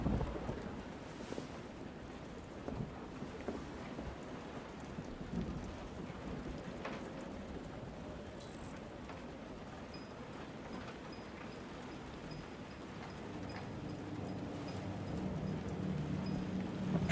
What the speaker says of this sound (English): How heavy is the rain?